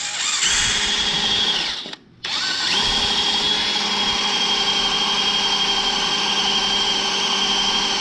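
A close, loud power drill grinds into welded metal on a 1964-70 Ford Mustang during a coil-over install, stopping briefly before spinning back up into a steady, high whine.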